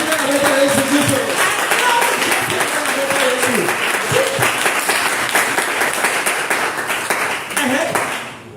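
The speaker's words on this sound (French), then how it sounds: "Acclame Jésus." A church congregation at a French-language service claps continuously and fairly loudly throughout, while a voice carries on over the applause.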